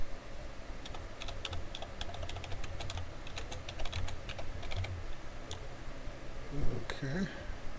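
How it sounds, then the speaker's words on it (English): Steady clicking of keys on a computer keyboard as a sentence is typed in Microsoft Word, soft and close against a quiet room hum, with a faint voice in the background. "Be sure to type the period and then press spacebar."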